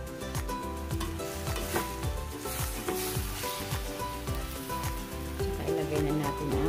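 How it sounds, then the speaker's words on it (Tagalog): Chicken and broccoli stir-frying in a pan, loud steady sizzling broken by repeated scraping and tossing strokes of a utensil, close up with no talking. "Halo na natin guys ang broccoli."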